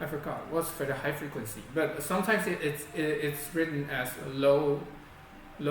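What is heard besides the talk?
No everyday noises stand out.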